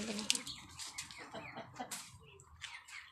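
Large egg-laying, brooding hens cluck nearby in a farmyard, a series of short calls with a brief flutter near the start, mostly free of talk.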